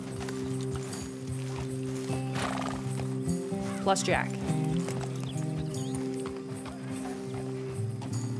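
Horse hooves clip-clopping and a whinny from a black horse ridden in by a rider in the Red Dead Redemption 2 game, heard under speech with ambient music, with a neigh rising around the midpoint.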